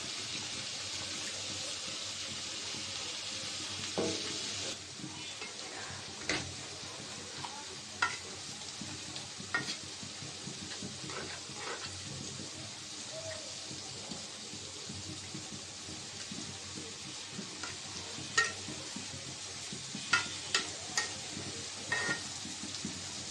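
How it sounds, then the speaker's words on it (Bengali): Fish curry bubbling and simmering in a pan, a continuous soft sizzle and bubble broken by intermittent clinks and scrapes of a spoon stirring, close and moderately quiet with no speech. "মাছটা বলক এসেছে, এটা কাঁচামরিচ দিয়ে দিব।"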